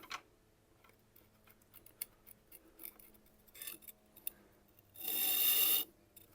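A knife is sharpened on a Tormek, with light scratching strokes on the bevel in short irregular bursts, then one loud harsh grinding rasp of about a second near the end, close and without talk.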